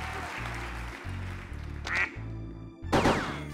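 Cartoonish duck quacks in the quiz game Buzz! The Mega Quiz, a few loud bursts between thumping rhythmic game music, with brief gaps and cheering-like noise.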